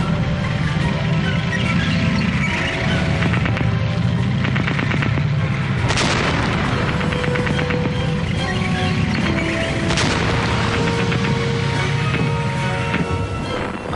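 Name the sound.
British tank guns firing at German A7V tank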